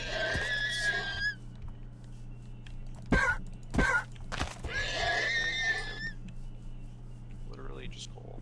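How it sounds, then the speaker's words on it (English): Neighing horse in the video game Minecraft: two bright, drawn-out whinnies, one at the start and another mid-clip, with a couple of dull thuds between them over a low steady hum. "That's a horse, I'll take it."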